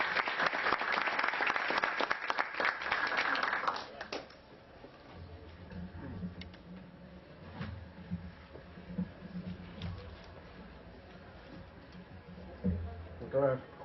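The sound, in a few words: audience applause for a speaker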